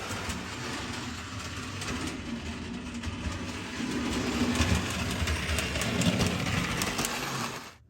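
A freshly greased Lionel 52 Fire Car model train runs along its track with a continuous whirring, clattering rumble that grows louder midway and then stops abruptly.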